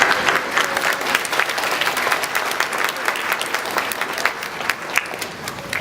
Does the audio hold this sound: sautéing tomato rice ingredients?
no